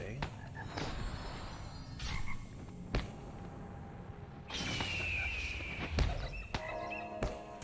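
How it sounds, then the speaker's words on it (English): A toad croaks in the stone halls of Moria in Lord of the Rings Online, heard as muffled, scattered croaks with soft thuds and footsteps around them, faint and distant as if through rock. "You hear muffled croaking from somewhere, as if through stone."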